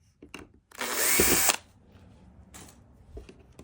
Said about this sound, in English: the quickest and easiest way to do this is with an electronic drill